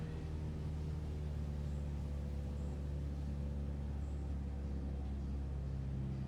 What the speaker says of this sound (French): On baisse le régime moteur.